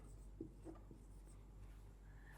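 A teacher writing on a board, with a few faint, brief chalk taps and scratches against a quiet, humming room.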